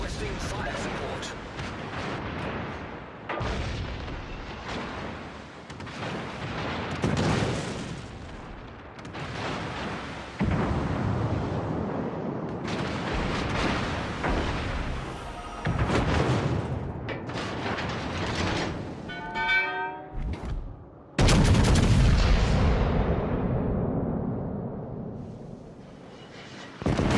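Heavy naval artillery from a battleship in a video game, a run of deep booming salvos and rumbling impacts with mechanical clatter, loud and close, mixed with speech.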